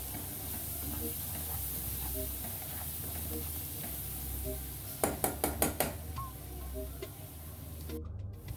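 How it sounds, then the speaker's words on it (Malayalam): Garlic frying in a pan for an Arabic-style whole chicken dish, a steady close hiss and sizzle broken midway by a quick run of sharp stirring clinks and scrapes. "എന്നിട്ട് വെളുത്തുള്ളി ഇട്ട് ചെറുതായിട്ടൊന്ന് മൂപ്പിച്ചെടുക്കുക."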